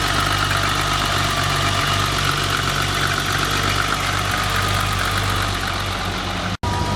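Barn find BMW E30 engine idles steadily after sitting two years, a close continuous rumble with a slight knock, cut by one brief dropout near the end.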